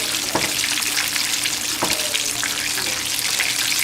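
Chicken fries in hot oil with a dense, continuous sizzle and crackle, close and fairly loud, with faint clicks of a fork or utensil against the pan.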